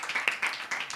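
Children at a Sunday school Bible quiz clap together in a brief burst of quick, uneven claps, fairly close and moderately loud, with no voices over it.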